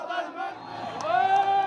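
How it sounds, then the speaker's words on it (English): A large protest crowd in the Middle East in 2002 chants loudly in unison at a police line. The sustained, droning mass of voices rises slightly toward the end. "An officer tried to address the crowd, but he was drowned out by the chanting."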